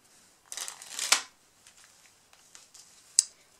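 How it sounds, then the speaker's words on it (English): Cards from a Theory 11 Animal Kingdom deck dribbled from hand to hand, a soft rapid fluttering of riffling cards building to a brief burst, then a few scattered light card ticks. "It dribbles quite good"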